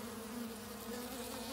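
Bees at a Warre hive buzz in a steady, dense drone, close and continuous, with a humming pitch that barely wavers.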